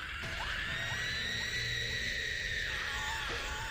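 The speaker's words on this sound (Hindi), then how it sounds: "पर तभी पीछे से गांव वालों के चिल्लाने की आवाज आई" Villagers shout and scream from behind in a horror story, a steady wash of distant, faint yelling voices that holds throughout without pause.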